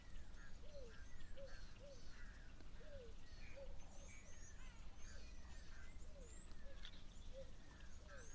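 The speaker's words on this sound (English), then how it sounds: "There's a pearl-spotted owlet calling in the background," A pearl-spotted owlet calls repeatedly at a waterhole, a series of short whistled notes in a steady rhythm at moderate distance, layered with other birds chirping over a faint outdoor hiss.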